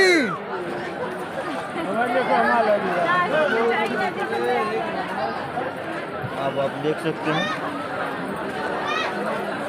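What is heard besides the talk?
large crowd chattering at Mumba Devi temple during Navratri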